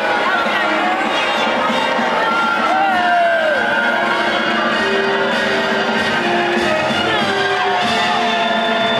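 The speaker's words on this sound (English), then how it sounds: "I will now hear a ready scream for the youthful and valiant Blue Knights!" A large Medieval Times arena crowd in Orlando, Florida, yells and cheers for the Blue Knights during the tournament show, a dense, sustained roar of many voices with whoops and shouts filling the whole stretch, mixed with speaking.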